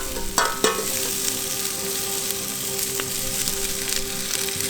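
Thai-style red curry sauce from Trader Joe's sizzles and fries steadily in a pan, with a couple of brief stirring scrapes near the start and a constant close crackle throughout.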